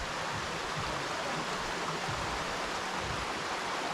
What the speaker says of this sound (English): We're looking at the river at the bottom.